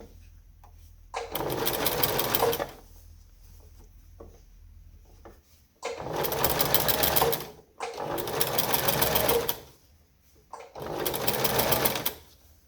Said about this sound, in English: Sewing on the inside so that I can see where I'm sewing.